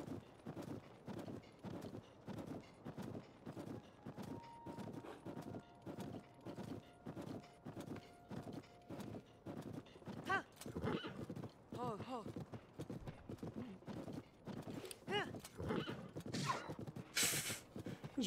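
A shiny golden horse in Zelda: Tears of the Kingdom, its hooves clip-clopping in a steady repeated rhythm, with game music and sound effects around it. A neigh may be in there too.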